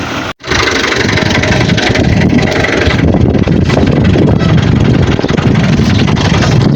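A tractor engine runs loud and close, a steady rumbling drone with wind buffeting the microphone, after a brief dropout at the start.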